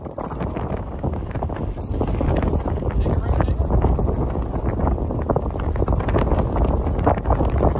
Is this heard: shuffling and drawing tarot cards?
no